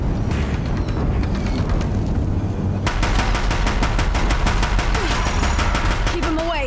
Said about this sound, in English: Deathbringers keep firing